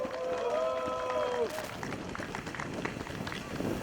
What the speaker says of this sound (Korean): 우리 다시 한번 좋은 말씀해 주신 배복주 후보님께 큰 박수 부탁드리겠습니다